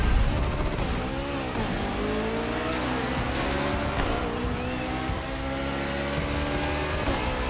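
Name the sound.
Porsche 919 street hypercar racing in The Crew Motorfest video game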